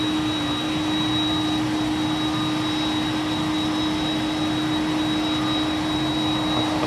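A jet aircraft on approach to East Midlands Airport produces a steady, constant roar with a fixed whining tone, sustained evenly throughout without change in loudness.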